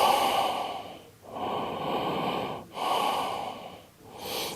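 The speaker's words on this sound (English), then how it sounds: "Big inhales, slow exhales." Deep, slow breaths during a yoga flow, close to the microphone, with three long airy exhales or inhales separated by brief pauses and a fourth starting at the end.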